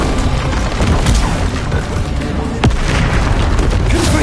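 Loud, crackling spell blasts from Confringo and Incendio in Hogwarts Legacy, a dense run of bursts and booms with one sharp crack standing out near the middle.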